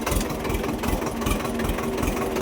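A small tractor engine runs steadily on a rough rural road, a constant close, loud low chugging drone without pause and no talking over it.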